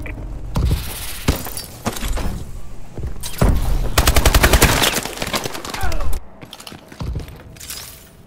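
Gunfire in the video game Call of Duty Advanced Warfare, loud, dense automatic fire in repeated bursts mixed with impacts and breaking sounds, with brief radio-style voices in the mix.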